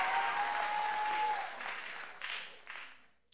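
A church congregation claps during a sermon, a brief spread of applause that thins out into a few scattered claps before fading to quiet.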